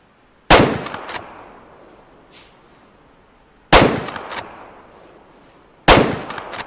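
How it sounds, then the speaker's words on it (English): Three loud rifle shots from the hunting game Way of the Hunter, fired during a badger hunt, each a sharp crack followed by a rattling metallic echo that decays into quiet, spaced a few seconds apart. "Shoot a badger."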